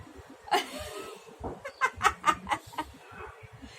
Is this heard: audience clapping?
no